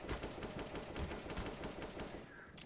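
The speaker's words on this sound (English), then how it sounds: "It took way too many shots to kill him." Rapid automatic gunfire from a CS:GO match fills the whole stretch, dense bursts of shots close and loud with battle noise underneath.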